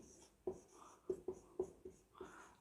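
Marker on a classroom whiteboard during a networking lesson: several sharp, close taps and short strokes in an uneven rhythm, with brief scratchy squeaks between them and no speech.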